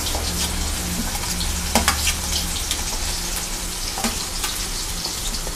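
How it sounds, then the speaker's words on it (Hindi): Onion frying in oil with asafoetida and garlic, a dense continuous sizzle up close with a low background hum and a few scattered scrapes of a spoon in the pan, no voices. "थोड़ी सा ये भून लेते हैं पहले, हल्का सा भून जाएगा"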